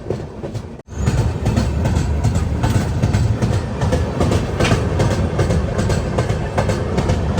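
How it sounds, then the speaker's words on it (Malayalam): Chhattisgarh Express rolling into Battapara railway station, with a loud continuous rumble and rhythmic clickety-clack of wheels over rail joints after a brief dip at the start. "ട്രെയിൻ ഇപ്പോൾ ബട്ടാപ്പാറ എന്ന് പറഞ്ഞിട്ടൊരു റെയിൽവേ സ്റ്റേഷനിലേക്ക് എത്തിയിരിക്കുകയാണ്"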